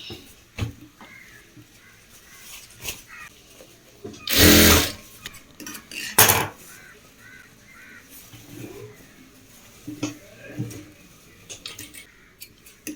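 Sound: sewing machine stitching folded fabric of shorts

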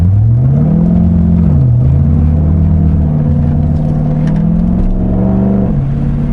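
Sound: Chevrolet Corvette C6 Grand Sport engine and exhaust revving

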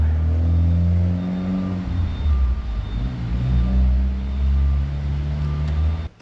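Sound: Mitsubishi Evo 9 MR driving away

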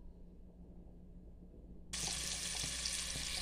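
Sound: smoked sausage frying in a pan

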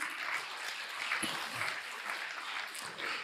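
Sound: seminar audience applauding

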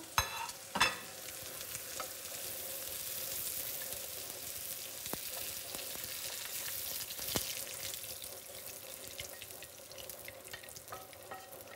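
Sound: fennel frying in a pan

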